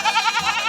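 A goat bleats in a quick series of wavering, nasal calls at a busy livestock market, loud and close, with no talk over it.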